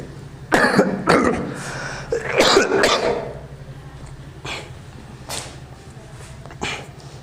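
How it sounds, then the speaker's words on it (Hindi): A person coughs several times in quick clusters, close and loud, followed by a few softer coughs and throat clearing, with no talking. "दोस्तों खांसी हो रही है थोड़ी सी।"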